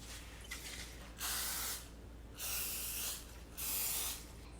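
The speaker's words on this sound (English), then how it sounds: "I'm using this butter spray." Three short hissing bursts of butter spray applied to a freshly baked, still-warm loaf of homemade white sandwich bread, close and fairly quiet, with no talking.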